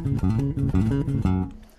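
An electric guitar plays rapid sweep-picked arpeggios with hammer-ons and raking, a quick run of distinct picked notes in steady rhythm, close and fairly loud, ringing out briefly at the end.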